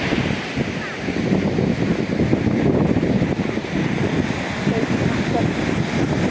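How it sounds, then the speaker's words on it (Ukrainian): Steady wind rushes and buffets a microphone for several seconds, a broad, constant roar with no other clear sounds. "Почався вітер."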